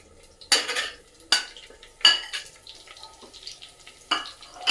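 Bitter gourd pieces stirred and fried in a village-style pot: a low sizzle broken by four distinct scraping stirs of a utensil against the pot, close and loud, with no speech.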